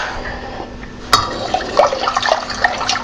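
Strong brewed tea, made with two tea bags and cooled, poured into a homemade apple wine mixture, a sudden splash followed by a steady liquid trickle and glugging, close and fairly loud.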